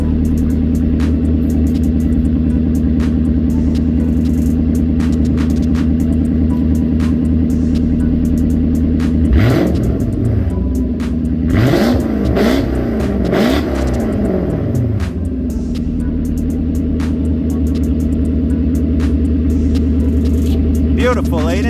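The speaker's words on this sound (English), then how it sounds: "just a burst of revs" A Lexus car engine idles with a steady, deep hum, then bursts into several quick revs that rise and fall sharply in the middle before settling back to a smooth idle close by.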